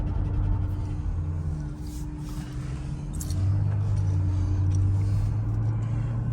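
2004 Mercedes SL fitted with Silver's Neomax coilovers driving on the road, a low steady engine and road rumble from inside the car that swells slightly midway.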